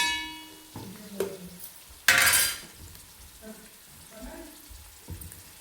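Stirring of chicken curry in a pot, two kilos of chicken with salt, chili, turmeric, ginger-garlic paste and lemon, gives scattered scraping and soft sizzling, with one loud, brief rattling burst near the middle.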